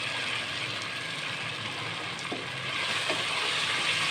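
Fried potatoes hit a pan of biryani masala and sizzle steadily and loudly, a continuous hiss of frying with a few faint clinks of stirring, no voices.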